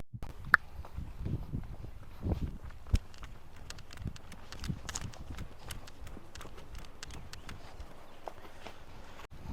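A mare walking nearby, her hooves clip-clopping in a steady, uneven rhythm over a quiet outdoor background.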